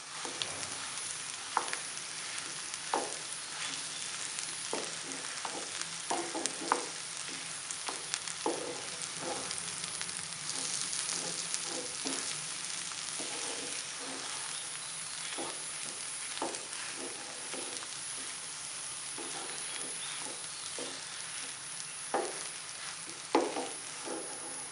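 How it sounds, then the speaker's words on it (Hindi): Potatoes for aloo kachori filling frying in a pan: a constant soft sizzle with a string of light tapping, scraping stirs at irregular intervals, moderately close and fairly quiet. "थोड़ी देर आलू को भूनेंगे 10 सेकंड के लिए, तकरीबन 10 से 20 सेकंड।"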